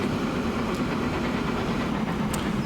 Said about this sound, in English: All right, our train is nearly down to the end.